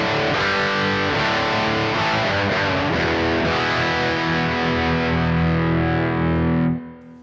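Loud, continuous distorted electric guitar chords played through a Vox MV50 amp's line out with cabinet simulation engaged, ringing steadily for about seven seconds before stopping abruptly; no voices.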